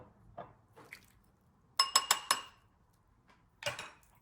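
Dressing being mixed with red wine vinegar in a bowl, a quick run of four sharp utensil clinks against the bowl, with softer scrapes and another clink after.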